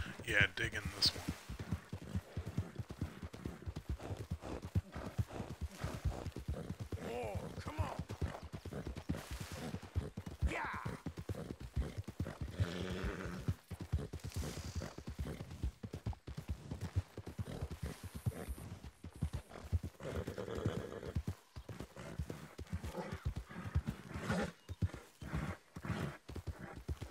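Rapid rhythmic hoofbeats of a galloping horse pound on continuously, with an occasional whinny, while someone talks over them.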